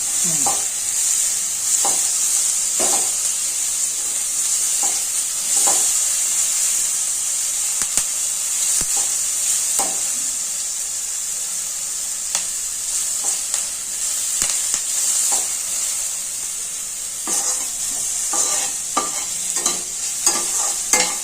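Capsicum and cabbage frying in a pan give a steady, close sizzle and hiss, broken by repeated scraping stirs of a spatula.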